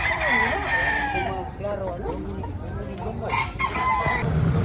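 A rooster crows at a chicken expo in Consolacion, Cebu, its long harmonic call rising and falling over a busy crowd, with other fowl clucking and more crowing nearby and people talking in the background throughout.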